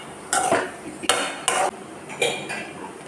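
Cabbage and green peas thoran stirred in a pan, with four distinct scraping, clinking strokes of a spoon against the pan, close and alone.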